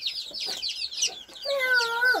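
Yellow, grey and black chicks cheep in a rapid high chorus while a hen gives a drawn-out cluck near the end, close by with no talking.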